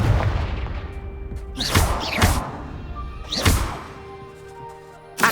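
Confringo blasting spell explosions in Hogwarts Legacy land as several sharp, loud bursts, a pair close together, then another and a final hit, over a steady rumbling game background.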